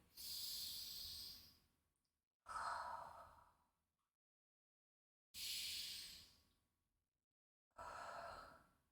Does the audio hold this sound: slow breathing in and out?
yes